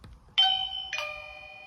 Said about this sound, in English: Immediately get that doorbell effect.